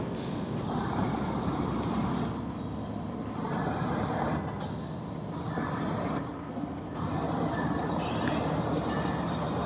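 Freight trains passing each other in a meet on a cold morning, a loud, continuous close rumble and roar of rolling cars, with a brief dip partway through and no talk.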